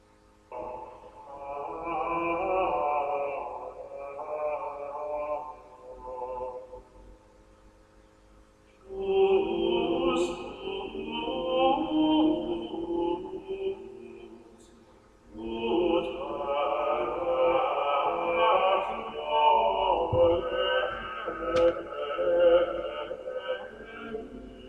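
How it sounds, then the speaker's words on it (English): Medieval organum: voices singing a chant in parallel intervals, in three sustained phrases separated by brief pauses, sounding slightly distant and reverberant. "Organum was originally improvised, and it sounds like this."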